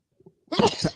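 A single sneeze, short and fairly close, following a couple of faint small sounds, alone with no talk around it.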